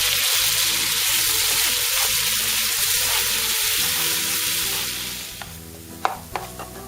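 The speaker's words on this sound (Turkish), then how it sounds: "Biraz eridikten sonra da rendelediğimiz soğanı basıyoruz. Ve savurmaya başlıyoruz." Grated onion fries in melted fat in a pan while being stirred and tossed, a loud, steady sizzle close by that thins out near the end, followed by a few light clanks.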